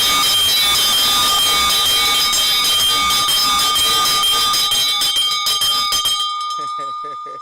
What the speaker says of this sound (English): Today we got bell na the devotion